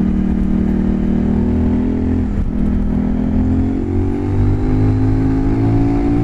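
CF Moto 800 NK motorcycle accelerating on the road, a loud close engine drone whose pitch climbs steadily after a brief dip, continuous with no talking.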